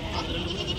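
Goats bleating at a busy goat market, a short burst of close bleats over steady crowd noise and murmured voices.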